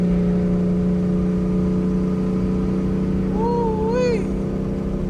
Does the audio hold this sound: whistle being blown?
no